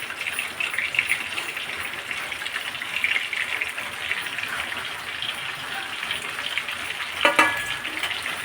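Stuffed capsicums fry in hot oil with cumin, making a steady, close sizzling crackle throughout, with a brief louder spatter near the end.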